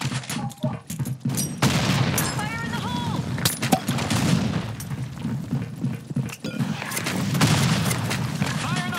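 A booming grenade blast and gunfire rattle through a competitive shooter match, with loud bursts mixed under excited player shouting and chatter.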